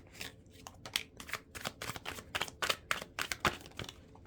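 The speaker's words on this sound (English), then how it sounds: "I'm going to shuffle again, apparently." A tarot deck is riffle-shuffled repeatedly, quick papery flutters and snaps in a steady rhythm, close and fairly quiet.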